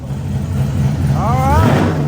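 A supercharged Corvette's engine rumbles loudly nearby with a short rise in pitch as it revs, while someone talks over it.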